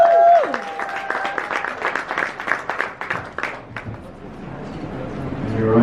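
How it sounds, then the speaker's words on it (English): At an Amarula event, an audience claps for the Amarula brand manager, a lively round of applause with a tonal sound and some voices at first, the clapping thinning out toward the end as the room noise settles. "Let's give her a round of applause, please."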